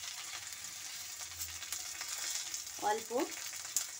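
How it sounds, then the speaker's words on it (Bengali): Frying in oil with stirring in a pan, a quiet steady sizzle broken by light scraping strokes, while a voice speaks briefly near the end. "তেল দিয়ে আমি ভেজে নেব। ভেজে নিয়ে এটাকে নাড়াচাড়া করব।"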